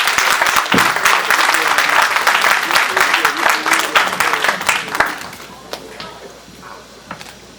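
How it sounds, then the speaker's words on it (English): Audience at a community gathering in Atlanta applauding a senator, loud dense clapping that fades out over several seconds into scattered claps, with voices under it. "Ladies and gentlemen, please give a round of applause for Senator Mowrai."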